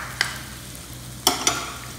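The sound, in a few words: stirring potato samosa filling with roasted peanuts in pan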